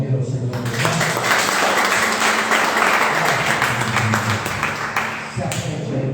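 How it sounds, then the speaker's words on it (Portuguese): A church congregation applauds to praise God, a broad wash of clapping that swells in after a short lead-in and continues steadily for several seconds, with voices and music mixed in before tapering near the end. "Pode aplaudir ao Senhor."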